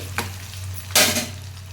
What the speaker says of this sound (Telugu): ఉల్లిపాయ ముక్కలు వేసుకుంటున్నాను ఉల్లిపాయలు కరివేపాకు పచ్చిమిర్చి వేసాను